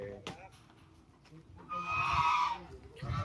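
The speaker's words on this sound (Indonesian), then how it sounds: "Jadi kambing ini titipan dari keluarga pasien juga sebenarnya." A goat on a farm gives a loud wavering bleat in the middle of the clip, with indistinct voices and low background noise around it.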